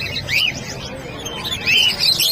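Grey wing African lovebirds at a pet market chirping in quick high bursts, a few sharp tweets close by over a low murmur of background noise.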